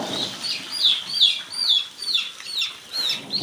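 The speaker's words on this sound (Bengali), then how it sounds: "এখানে ব্রোডিং চলছে মুরগির বাচ্চা" Many young broiler-farm chicks in a brooding house cheep in a rapid, overlapping chorus of high peeping calls, steady and fairly close, with no talking.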